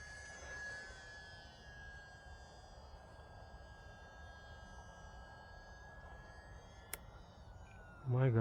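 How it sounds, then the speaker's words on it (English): UMX Turbo Timber RC model airplane flying at night in fog behind a house gives a faint, steady electric whine that drifts slightly in pitch over quiet outdoor ambience, ending with a brief louder burst. "this plane is so relaxing and so tame compared to the UMX Timber X"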